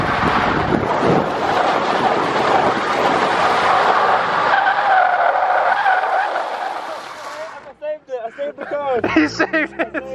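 A car drifts and skids across an airstrip on an open differential, its engine roaring and tires hissing loudly and continuously for several seconds before fading into wind buffeting and excited voices.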